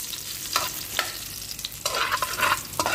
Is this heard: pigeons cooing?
no